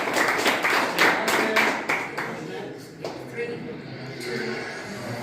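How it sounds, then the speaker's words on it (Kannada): A group claps loudly for a student named Obalesh in a classroom quiz, a burst of sharp, rapid claps that fades out after a couple of seconds, followed by quieter tapping and talk. "ಮತ್ತೊಮ್ಮೆ ಓಬಳೇಶ್ ಜೋರ ಚಪ್ಪಾಳೆ ತಟ್ಟಿ"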